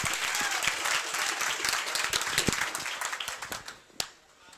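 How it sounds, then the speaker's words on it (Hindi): An audience gives loud applause to welcome a guest at a Gurukul opening, dense clapping that thins and fades toward the end, with a last sharp clap or knock near the close. "एक बार जोरदार तालियां हो जाए सर के लिए"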